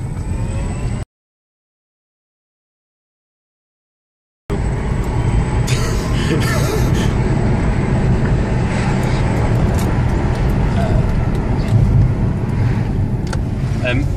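An electric Mazda RX8 accelerating hard in second gear gives a steady whine over loud road and wind roar from inside the car, after a short silent gap near the start.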